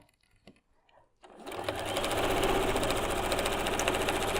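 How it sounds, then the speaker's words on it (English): After a second of faint handling noise, a sewing machine starts stitching quilt fabric seams and runs as a steady, fast mechanical chatter at close range, continuing without pause to the end. "Sew down to there, line up the edge of our end of our fabric."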